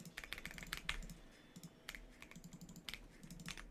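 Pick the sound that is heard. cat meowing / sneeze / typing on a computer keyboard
typing on a computer keyboard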